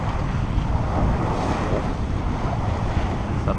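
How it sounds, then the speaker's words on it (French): Steady rush of wind and breaking waves at sea aboard a sailboat off the Var coast, heard in a light northwest breeze with constant wash and microphone buffeting and no voices. "Bon petit vent de nord-ouest"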